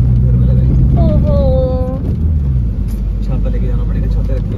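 A car engine rumbles close by as a vehicle is pulled in and parked at a home on a rainy day, a steady low drone running throughout, with a brief tonal whine partway through.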